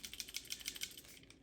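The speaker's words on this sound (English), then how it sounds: "If I shake it, you can hear a little rattle." A quiet, quick series of light clicking rattles, evenly spaced, as a MEKOH pressure washer gun with something small loose inside its hard plastic housing is shaken close by.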